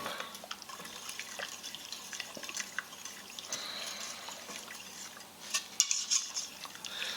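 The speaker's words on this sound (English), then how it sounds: "I'm just going to whisk and whisk and whisk" A whisk works a stroganoff sauce in a pot, quick light metallic scrapes and clinks against the pan repeating over a soft background, fairly close and without talk.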